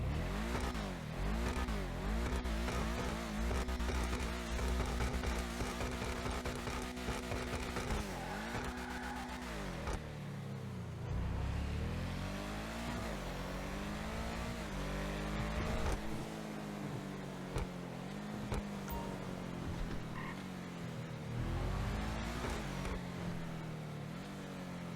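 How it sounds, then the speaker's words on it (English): Ubermacht Cypher sports car engine in GTA Online revving hard and loud, rising and falling in repeated sweeps with aggressive acceleration and a brief dip around ten seconds, no talking. "Definitely one of the kind of better sounding engines in GTA, I would say."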